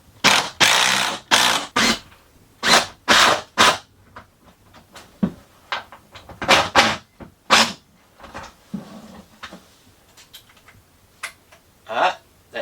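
Two bolts are run up while a motorhome jackknife sofa is assembled, giving a loud, close, irregular series of sharp clicking ratchet bursts with short pauses between them.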